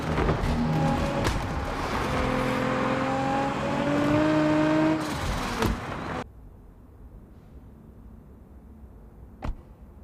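A track car with a default gearbox drives in the Car Parking Multiplayer 2 video game, its engine note rising through several climbing revs before cutting off abruptly, followed by near silence and one sharp click.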